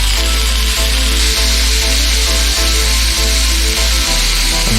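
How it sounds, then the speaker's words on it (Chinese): A fatty pork chop edge sears in a hot pan for a Danish apple pork dish, giving a loud, steady sizzling hiss with faint low knocks every half second or so, and no talking. "把这个猪排的边儿稍微给煎一下，"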